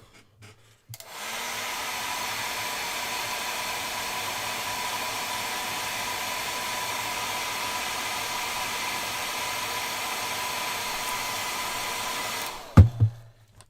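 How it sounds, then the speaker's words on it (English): A hair dryer blows on a painted miniature ship, starting abruptly into a steady, loud, even whoosh for about twelve seconds before cutting off with a couple of clicks and handling knocks. "let's just get the old air dryer"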